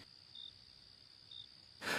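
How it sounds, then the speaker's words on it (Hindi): Faint, distant cricket chirps come in two short bursts over a quiet nighttime background, followed by a brief louder rush at the end. "सिर्फ कहीं दूर से कुत्तों के भौंकने और झींगुरों की आवाजें सुनाई दे रही थीं।"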